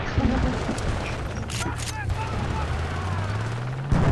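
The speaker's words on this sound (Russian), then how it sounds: "Не выходи, я стреляю в другого чувака." Shots in the shooter game Battlefield, close sharp bursts scattered through the clip, with a voice talking over them and a low engine-like drone.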